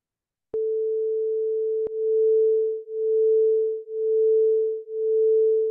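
Two steady sine tones at 440 Hz and 441 Hz sounding together, producing a slow, regular swell-and-fade pulsing about once per second, preceded by a short single steady tone, clean and alone with no talk.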